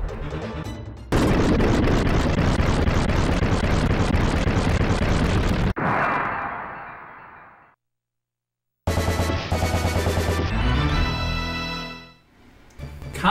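Contra video game weapons fire and explode in dense chiptune-style bursts, a long loud run of rapid blasts that cuts out, fades into a decaying rumble, then goes silent before more rapid shots and a fading boom.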